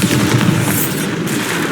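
A Bombarda spell blast from Hogwarts Legacy fills the moment with a dense, booming burst of noise, loud and close, sustained for under two seconds without any speech.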